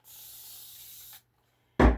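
Paint remover sprays from a spray bottle onto a painted canvas in one continuous hiss of about a second. A short silence follows, then a single soft thump close by.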